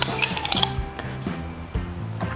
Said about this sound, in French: on va venir mettre la confiture dans un saladier